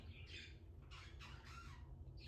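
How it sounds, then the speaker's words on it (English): Several pet birds chatter and squawk in short bursts at moderate distance over a steady low background hum, with no talking. "my birds are such chatterboxes"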